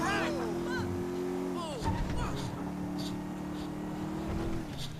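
A car in GTA 5 gameplay drives and accelerates, its engine droning with rising and falling revs while someone talks over it almost throughout.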